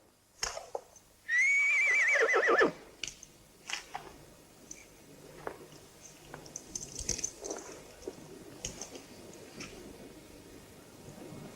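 A horse whinnies loudly and close by in a western film scene, one long quavering neigh followed by scattered rustling, hoof shuffles and quiet outdoor ambience.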